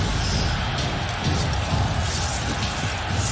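Arena crowd in The Witcher 3: Blood and Wine roars steadily throughout, a dense, loud wash of massed voices with scattered shouts and bangs.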